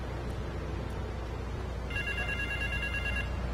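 A telephone rings with a steady electronic trill in the video game Grand Theft Auto 3, starting partway through over a constant low background hum.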